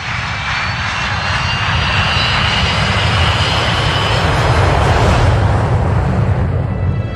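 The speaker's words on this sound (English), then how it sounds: "The plane is a Tupolev 154." A loud, steady roar of Tupolev 154 jet airliner engines fills the whole stretch, swelling slightly midway as if the aircraft passes close overhead.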